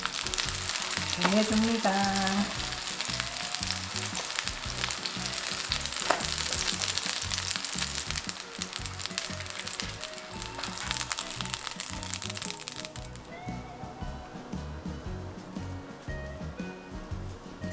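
Battered oyster mushroom skewers sizzle and crackle steadily in a hot frying pan, with loud frying throughout and brief speech at the start.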